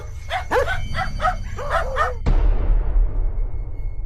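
A dog yips and barks in a quick series of about six sharp calls, close and agitated, then a sudden burst of rumbling noise cuts in and the barking stops.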